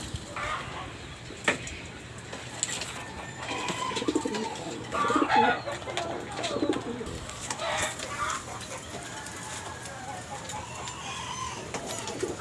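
Checkered pigeons coo softly among other bird sounds and clucks, with scattered calls at moderate distance over a quiet background and no talk.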